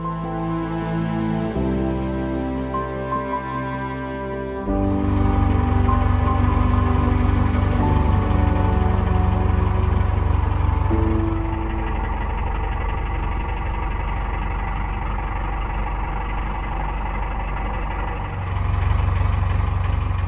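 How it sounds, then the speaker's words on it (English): Diesel engine of a narrowboat on a canal, running noisily while it needs a service, a close steady low chugging drone that shifts in pitch and load as the boat maneuvers. "Narrowboat Alice Grace's engine is a little bit noisy at the moment"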